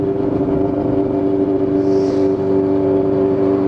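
A motorbike runs with the exhaust baffle removed, giving a loud, steady droning engine note with a strong low hum, constant and unbroken, with no voices.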